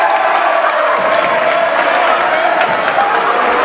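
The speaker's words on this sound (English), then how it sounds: "Crowd in here is going nuts." A loud, dense basketball crowd roars continuously in an echoing gym, cheers and shouts blending into a steady wash of noise.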